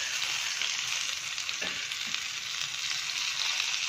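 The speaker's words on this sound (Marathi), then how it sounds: "छान असे सोनेरी रंग येईपर्यंत आपल्याला वड्या तळून घ्यायच्या आहेत." Kothimbir vadi, coriander fritters, frying in a shallow layer of oil with a steady, even sizzle throughout and a couple of faint soft knocks midway, no voices.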